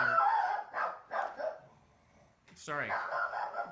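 Pet dog barking in a few sharp bursts as it reacts to something outside a window indoors, close and fairly loud, with a voice speaking between the barks.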